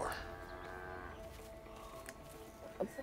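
A cow in the video game A Way Out gives a drawn-out, low moo near the start, over a steady bed of game ambience, with faint voices and a short rustle later on.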